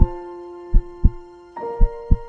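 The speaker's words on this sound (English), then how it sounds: "Listen to the earth's heartbeat. Listen to your own heartbeat." Low heartbeat thumps in lub-dub pairs beat steadily under a sustained, humming musical drone whose pitch shifts partway through; no one speaks.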